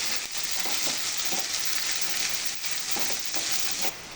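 Ginger, garlic and curry leaves frying in oil in a pan for a green mango pickle, a loud continuous hiss of sizzling with soft scraping of stirring underneath and no voices.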